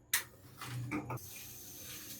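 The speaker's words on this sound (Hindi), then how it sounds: "इसमें आधा लीटर के करीब हम पानी जो है वो शामिल करेंगे" Water runs and splashes as about half a litre is poured into a pan for strawberry syrup, starting with a sharp clatter and settling into a steady, fairly faint trickle.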